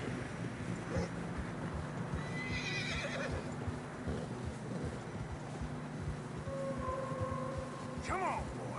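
A horse whinnies and hooves clop over a windy, noisy snowy outdoor background in Red Dead Redemption 2, with a louder neigh rising near the end.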